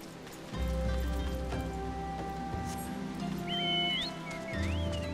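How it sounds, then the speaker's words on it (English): Steady rain patters in Drybone in the video game Final Fantasy XIV, a continuous wash of drops over low game ambience and music tones, with no one speaking. "Man, it's still raining in Drybone."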